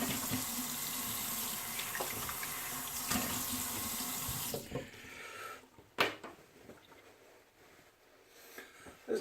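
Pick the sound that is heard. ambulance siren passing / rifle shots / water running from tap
water running from tap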